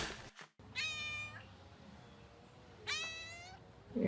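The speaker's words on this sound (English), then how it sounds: "Very loud Chateau cat." A cat at a French chateau lets out two long, loud, drawn-out meows separated by a pause, close by, with a brief rustle at the start and a sharper noise at the end.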